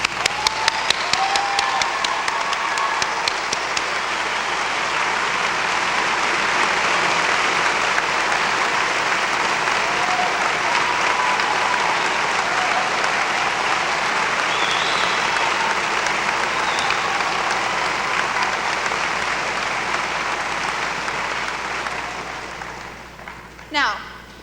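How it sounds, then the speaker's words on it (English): A graduation crowd breaks into a long, loud round of applause that swells, holds dense and sustained, then fades out with a few last claps. "I think you guys all deserve a round of applause."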